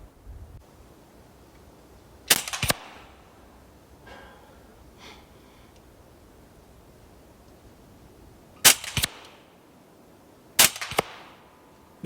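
Hatsan Sortie semi-auto air pistol fired at a target 20 metres away, with three sharp separate shots, the last two close together, over a quiet background.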